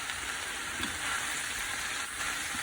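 Vegetables with fish sauce stir-frying in a pan, a steady loud sizzle and hiss that carries on without pause and with no talking.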